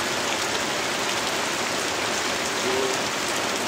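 Heavy rain pours down in a dense, constant hiss, loud and close, with no pauses or voices.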